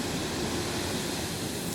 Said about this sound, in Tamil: பாருங்கள், அருவி கொட்டுது, மணல் அருவி.